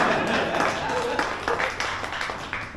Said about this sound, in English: I thought I'd give a bigger applause than that